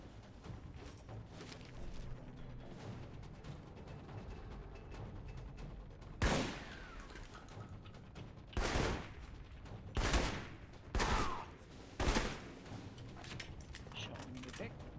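Bombing runs from a Valkyrie aircraft in the stealth action RPG Alpha Protocol: several heavy booming blasts at irregular intervals over a low rumbling game backdrop, with a voice talking through it.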